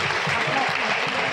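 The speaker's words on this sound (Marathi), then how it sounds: "टाळ्या होऊन जाऊ प्लीज" An audience claps steadily and densely at a baby shower celebration meal, a continuous wash of applause with no breaks.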